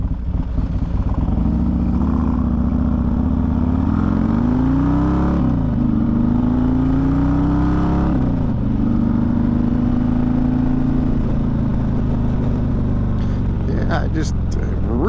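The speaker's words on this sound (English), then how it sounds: "Nice cam lope to it." Motorcycle engine fitted with an S&S 124 big-bore kit and a lopey cam, idling roughly and revving up and down in two swells, loud and close throughout, with a brief clatter near the end.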